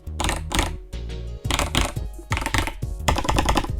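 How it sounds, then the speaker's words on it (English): Button presses on a Haute42 B16 leverless controller, rapid clicky keystrokes in quick bursts and flurries, close and fairly loud with short pauses between runs. "This is the smallest of the 3 controllers, and it might have the most satisfying button sound in my opinion."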